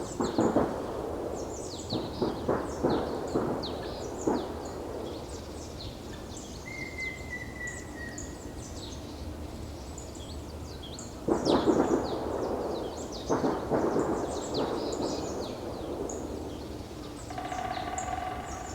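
Night field recording from a remote, unvisited place: scattered bird calls and woodpecker tapping mixed with distant low rumbles and bursts of activity linked to military war preparations, faint and spacious.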